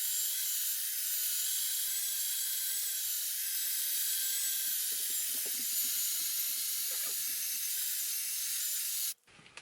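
A drill spinning a buffing pad over polishing compound on an Epiphone S-310 Strat-style guitar body gives a steady, close hiss and whir that runs unbroken for about nine seconds, then cuts off abruptly.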